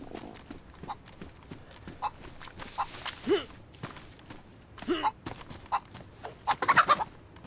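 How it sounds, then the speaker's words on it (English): Chicken clucking in the DayZ video game, short choppy clucks and squawks scattered among rapid clip-clop footsteps, getting busier toward the end, with faint talk underneath. "Oh, chicken. Let's go kill the chicken."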